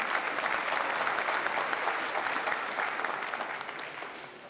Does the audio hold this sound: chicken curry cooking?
no